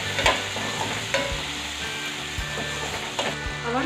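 Spices and tomatoes fry in a pan with asafoetida and salt for a bottle gourd bharta, giving a steady hiss broken by several sharp stirring scrapes and clacks.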